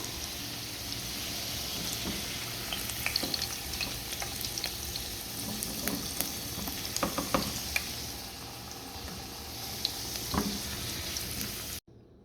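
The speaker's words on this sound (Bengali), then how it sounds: "আলুটা প্রায় ভাজা হয়ে গেছে।" Potatoes tinted with light food colouring fry in oil for chicken biryani, a constant close sizzle peppered with scattered crackles and stirring clicks, cutting off abruptly just before the end.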